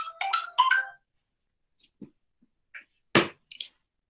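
A short melodic ringtone chimes from a phone during a finance conference talk, followed by a few scattered faint clicks and taps nearby.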